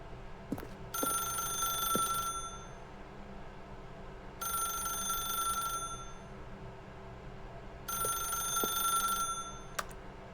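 A telephone rings in The Stanley Parable video game, three long bursts of bright electronic ringing separated by pauses, fairly loud over a quiet room-tone background with no talking.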